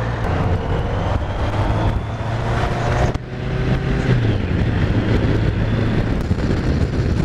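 A BMW K100RS motorcycle engine drones loudly and continuously while riding on the motorway, its low engine rumble mixed with heavy wind buffeting at close range.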